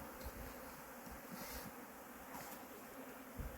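Honeybees around an open ten-frame wooden beehive, a steady, soft, continuous buzzing hum with no voices.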